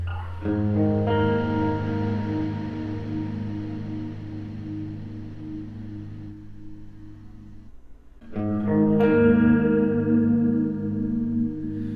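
A Klowra Limbo reverb pedal gives a lo-fi reverb wash over sustained, harmonically rich chords that ring and fade, pause briefly, then swell back louder and brighter, with no talk.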